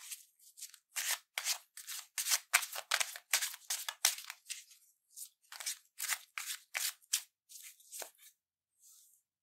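A tarot card is drawn and handled, giving a run of crisp, papery rustles and snaps in quick irregular bursts, close and fairly quiet, with a short pause before a last faint shuffle.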